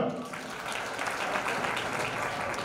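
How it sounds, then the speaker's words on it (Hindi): An audience at a community award ceremony in Jhalawar claps steadily, a continuous moderate wash of applause with some voices mixed in. "जोरदार तालियां।"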